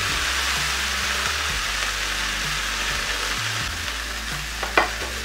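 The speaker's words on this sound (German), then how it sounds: "Und dann brate ich zuerst meinen Brokkoli an." Broccoli frying in a pan for a gnocchi vegetable bake, a steady close sizzle with occasional stirring scrapes and a brief clink near the end, no talking.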